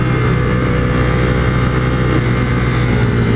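A Ducati 848 Streetfighter motorcycle engine roars loud and constant while being ridden, with a dense steady drone and wind rush and no talking heard over it.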